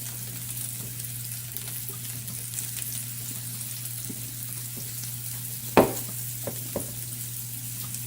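Mushrooms frying in bacon fat in a pan give a steady close sizzle, with a sharp clatter of stirring near the middle and a couple of softer knocks after.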